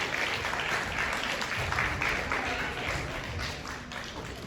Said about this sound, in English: So everybody, let's give a round of applause,